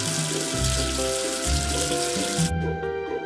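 Running water rinses soap off a surface in a children's cartoon, a steady splashing tap-like flow that carries on for most of the moment and then cuts off abruptly near the end, with music underneath.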